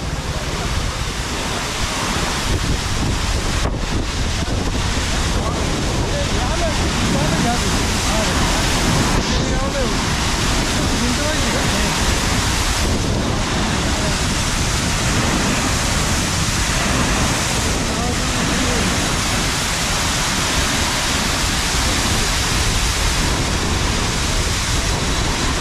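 Water roars through the overflow gate of the Bhandardara dam, a loud, unbroken rushing wash that fills the scene throughout.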